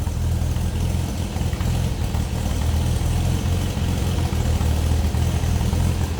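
A 1962 Nash Metropolitan convertible idles, heard from the rear of the car as a steady, close, low exhaust rumble with a slightly uneven throb that runs without a break.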